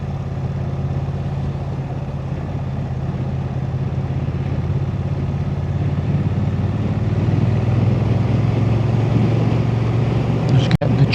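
Wind buffets a hilltop microphone in steady, rumbling gusts that swell slightly toward the end, with a brief knock just before it finishes.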